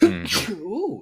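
A single short sneeze bursts out up front, followed by a brief murmured voice.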